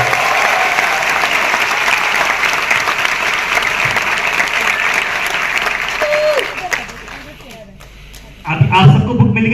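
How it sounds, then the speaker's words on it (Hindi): A room full of people claps steadily for several seconds before the applause fades out, and a voice begins speaking near the end. "तो एक बार प्लीज तालियां हो जाए"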